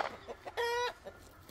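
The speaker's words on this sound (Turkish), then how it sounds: "bak tavuğumuz burada gitmemiş bir yere" Domestic chicken near a home giving a short, loud clucking call with a harmonic ring, preceded and followed by softer scattered clucks and rustling.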